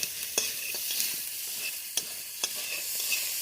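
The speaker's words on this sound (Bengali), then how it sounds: "সঙ্গে সঙ্গে রান্না শুরু। বেশিক্ষণ লাগবে না, 2 মিনিট নাড়াচাড়া করবো স্পেশালিস্টভাবে।" Vegetables stirred and fried in a pan, a soft continuous sizzle broken by a few sharp scrapes and taps of a spatula, near and fairly quiet, no talking.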